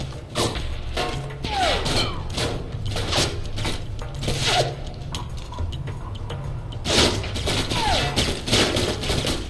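Tranquilizer pistol shots in the video game Alpha Protocol, a series of sharp thumps and clicks over a constant mechanical game background, with no talking.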